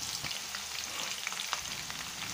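Sliced onions fry in hot oil in a dry pot, a constant crackling sizzle with scattered pops and faint stirring, close and fairly quiet.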